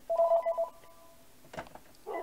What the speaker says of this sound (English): That is another phone call.